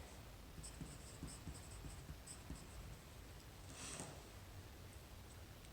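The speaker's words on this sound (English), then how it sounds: "So when I use this pencil, I'm pushing pretty hard right here" A hard-lead pencil pressed firmly on paper makes soft, close scratchy strokes in short repeated bursts, with one longer scrape near the middle, faint and alone against a quiet room.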